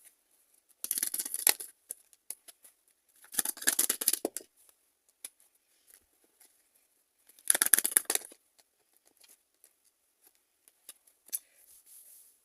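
Tarot cards are shuffled and drawn in a quiet room: three short bursts of crisp riffling and flicking, separated by near-silence with a few faint taps and slides of cards, no speech.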